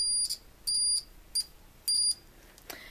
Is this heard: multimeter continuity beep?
yes